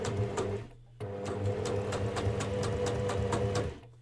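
A sewing machine stitching in steady, rapid mechanical chatter, close and continuous, briefly pausing near the start before running on and stopping just before the end.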